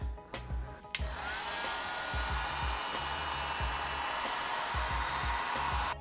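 A heat gun blows hot air onto the sealed headlight of a Ferrari 488 GTB, a loud steady fan whoosh that starts after a brief click and runs continuously, with light handling knocks underneath.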